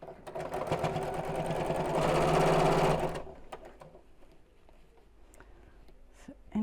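A sewing machine stitches a Biscornu zipped pouch in a steady, close whir for about three seconds, then stops, leaving quiet handling and fabric sounds.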